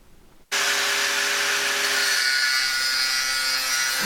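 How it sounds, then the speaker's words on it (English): A cutting wheel bites into round bar or tubing after a brief quiet start, then a loud, sustained abrasive grinding whine with steady tonal hum continues unbroken at close range, with no talking. "Applying light to moderate pressure and constant movement will provide the most efficient cut and minimize heat buildup."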